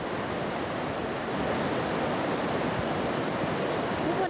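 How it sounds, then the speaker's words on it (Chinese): A swollen mountain stream in Yilan County's Datong Township, carrying heavy mud and rocks against bridge piers after a storm, a loud, dense, continuous roar of rushing water with no talk over it. "溪水夹杂大量的土石不断冲刷桥墩"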